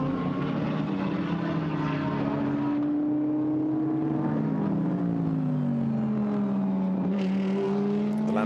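A Lamborghini GT race car racing at the Paul Ricard circuit in a Blancpain GT Sports Club race, a loud sustained engine drone with shifting pitch as it passes, continuous and unbroken.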